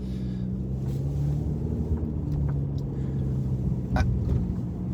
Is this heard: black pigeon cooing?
no